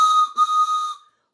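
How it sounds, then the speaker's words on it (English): A loud, steady whistle is blown for a pretend train ride, one long bright multi-tone blast with a brief break near the start before it cuts off. "I brought my whistle tonight."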